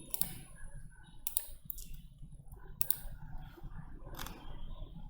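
Several crisp computer mouse clicks come at irregular intervals while working in Revit software, close and sharp over a quiet room background.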